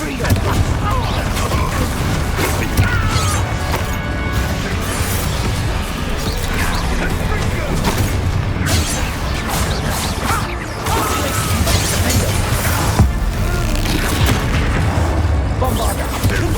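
Bombarda blasting spells go off in a Hogwarts Legacy battle, with repeated booming explosions and crashing impacts rolling on loudly and almost without pause under frequent spoken voices.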